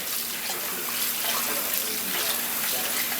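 Tap water running hard into a big pot of rice being rinsed, a loud close steady rush and splash that continues unbroken.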